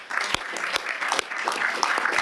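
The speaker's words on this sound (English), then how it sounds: "Let's have another round of applause for them." Council members applaud maiden speakers at a governing body meeting, a steady patter of many hands clapping with a few sharper claps standing out, filling the room at moderate loudness without talk.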